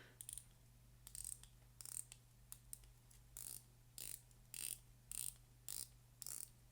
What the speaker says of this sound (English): The bezel is 120 click bezel.